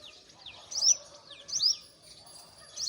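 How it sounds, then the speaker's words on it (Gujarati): Sparrows chirp in the morning, short high twittering calls arriving in a few bright bursts spaced about a second apart, fairly close but soft against a quiet background. "ચકલા બોલે છે"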